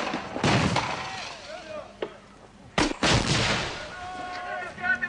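Gunfire at a protest: two sharp, loud shots or blasts in quick succession, with shouting and agitated voices filling the gaps before and after.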